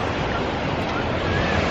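Ocean surf in Hawaii washes in a continuous, close roar under light rain, with no voice over it.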